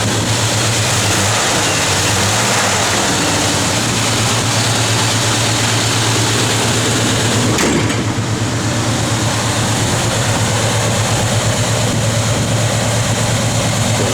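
A 1969 Chevrolet C10 pickup truck's engine runs steadily at idle, a loud continuous low rumble with a faint rise near the middle, with no talking.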